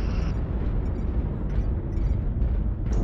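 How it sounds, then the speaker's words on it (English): Airstrike explosions rumble in MechWarrior Online, a dense low booming roar that rolls continuously for a few seconds with small bursts on top. "Nothing like going to drop an airstrike and somebody else drops them before you."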